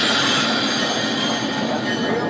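A Lionel Alco S4 diesel switcher model train runs close by with a continuous metallic rolling rush and faint squealing wheel tones, steady and fairly loud throughout.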